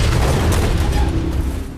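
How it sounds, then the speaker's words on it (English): A massive explosion blast aboard a battleship at Pearl Harbor, a loud, dense rumbling roar with crackling bursts that sustains throughout and slowly fades at the end. "The blast hits everyone on the ship."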